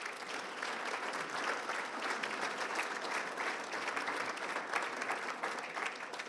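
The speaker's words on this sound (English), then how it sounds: "Give her a nice round of applause." An audience at an annual awards gala gives a warm round of applause, steady and moderately distant, continuous clapping from many hands throughout with no speech over it.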